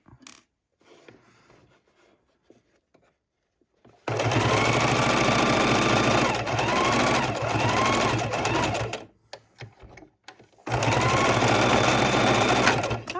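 Sewing machine stitching a microwavable tortilla warmer: a long loud continuous run of about five seconds, a short pause, then another sustained run, close and steady, with quiet stretches and light handling before it.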